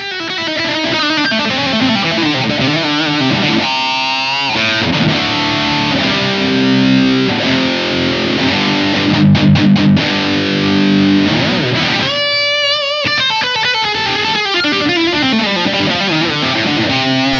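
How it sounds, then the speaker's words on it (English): An electric guitar played through a Blackstar Dept 10 Dual Distortion pedal gives heavily saturated chords and riffs, loud and close, with sustained distorted tones and a few brief gaps between phrases. "Today we are taking a look at the Dual Distortion from Blackstar."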